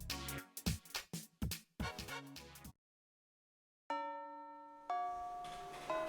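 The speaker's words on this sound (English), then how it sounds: "Lunch break ends, and the bell rings." A school bell signals the end of lunch break in the Fate/hollow ataraxia visual novel, with a run of struck metallic chimes, then a pause and two long sustained ringing bell tones, clear and alone.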